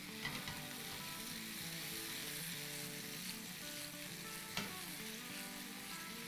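Cherry tomatoes fry in a pan for Persian kabab cooked without oven or grill, giving a steady, close sizzle with occasional stirring scrapes and light clinks throughout, no voices.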